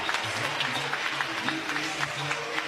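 A softball crowd applauds a base hit in a steady clapping wash, with a commentator's voice talking over it.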